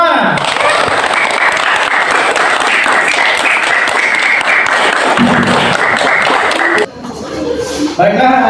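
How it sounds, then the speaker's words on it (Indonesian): Loud, sustained applause from a classroom of students fills the room close up, thick and continuous, then cuts off abruptly, leaving children's voices and a few stray claps. "Tepuk tangan untuk kita semua."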